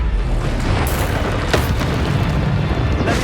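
A Confringo fire spell blasts in the Hogwarts Legacy video game on Xbox Series S, producing booming explosive bursts. They are loud and dense, layered over a constant heavy rumble of action and effects.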